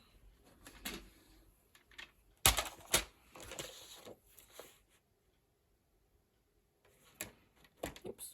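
Scissors or a paper trimmer cutting Stampin' Up! Countryside Inn scrapbook paper, heard as sharp close snips and slides in short bursts with quiet gaps between them.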